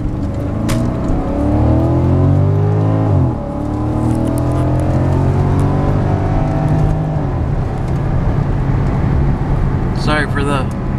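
A 2010 Porsche Panamera 4S all-wheel-drive V8 with 49,000 miles drives on the road, its engine droning and rising as it accelerates, with road noise inside the cabin while someone talks over it.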